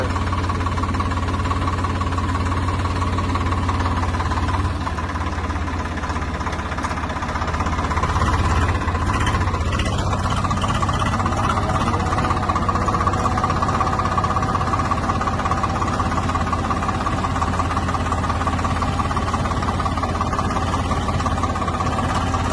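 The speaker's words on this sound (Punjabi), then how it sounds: "ਸਵੇਰ ਦਾ ਟਰੈਕਟਰ ਚੱਲੀ ਜਾਂਦਾ ਹੈ" A tractor engine runs steadily while packing corn silage, a continuous close, loud mid-pitched drone with a slight rise in intensity partway through and no talk.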